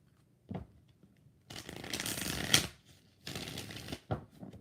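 A deck of tarot cards shuffled up close in two long papery riffling bursts, framed by soft taps and handling noises between them, with quiet gaps and no voices.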